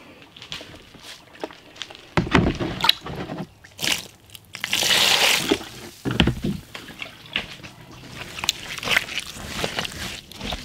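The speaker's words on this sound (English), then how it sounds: "So I'll just keep pouring water in the middle and then bringing soil from the side as I need it." Water poured into a dry soil-blocking mix as it is worked into a soupy consistency, giving irregular wet crunching, sloshing and gritty scraping bursts, fairly close and moderately loud, with no talk.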